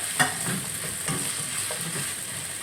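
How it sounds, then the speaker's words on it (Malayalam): Green chillies and curry leaves sauté in hot oil with small onions for a crab roast, a steady close sizzle broken by repeated scraping stirs of a spoon in the pan, no voices. "പിന്നെ ഒരു നാലഞ്ച് പച്ചമുളക് രണ്ടായിട്ട് ഇട്ടിട്ടുണ്ട് കരിയാപ്പില ഇതെല്ലാം ഒന്ന് വഴന്ന് വരട്ടെ"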